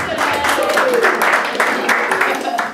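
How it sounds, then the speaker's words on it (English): An audience at an engagement puja claps in a sustained, dense round of applause, with voices and cheers mixed through it. "So please give her a big round of applause."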